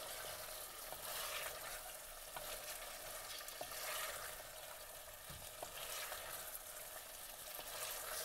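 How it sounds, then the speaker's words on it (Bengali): Chicken and new potato curry fries in a pan as it is stirred, a steady broad sizzle with faint scraping strokes throughout, fairly quiet and without voices. "আমি এটাকে ভালো করে কষাতে থাকবো, নেড়ে নেড়ে সময় নিয়ে একটু কষাবো।"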